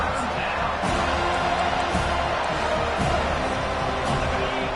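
A home crowd at an American football game roars steadily as the defense tries to get off the field on third down, a dense, continuous stadium cheer with occasional louder swells.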